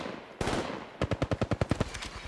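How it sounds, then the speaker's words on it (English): Bangalore's weapon firing in Apex Legends Mobile: a short burst, a pause, then a rapid string of about ten close, loud shots. "Opening fire."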